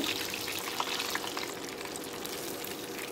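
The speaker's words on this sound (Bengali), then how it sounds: "একটু সময় ধরে ভেজে নিতে হবে।" Chicken legs deep frying in oil for KFC-style chicken, a dense steady hiss and crackle that stays loud and even throughout, with no voices.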